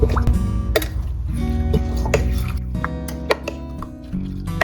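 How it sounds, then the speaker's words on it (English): Plant milk poured into a jar of overnight oats and stirred well, giving soft liquid drips, plops and scraping stirs under steady background music. "My plant milk goes in and I give it a good mix."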